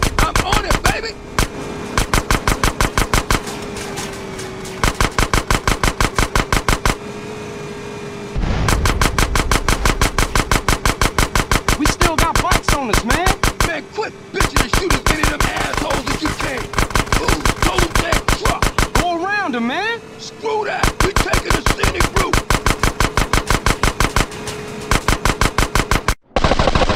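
Sustained rapid gunfire in a GTA San Andreas car chase, loud and close, with bursts of machine-gun-like shots nearly continuous across the clip, brief gaps between volleys, engine and game voices faintly underneath.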